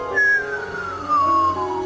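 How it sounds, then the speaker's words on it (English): A lightning-generated whistler radio signal, converted to sound: a clear descending whistle tone gliding steadily downward over about a second and a half, alone over a faint hiss with a low hum beneath. "This is a strange kind of signal called a whistler."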